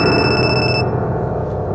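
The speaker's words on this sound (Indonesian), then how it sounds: "Tiba-tiba telepon pun berdering." A telephone rings in a tense horror-film scene, its bright electronic trill pulsing briefly and then cutting off, loud over a dense, rumbling low drone.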